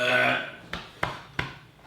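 A man imitates burping with his voice, three short gruff belch-like bursts following a louder stretch of his speech, close and fairly loud.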